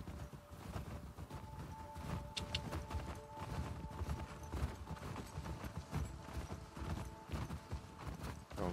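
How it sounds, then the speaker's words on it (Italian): Horse hooves clip-clop at a steady walking rhythm in the video game The Last of Us Part II, faint and continuous over a low ambient bed, with occasional tack jingles. "No, andiamo col cavallo."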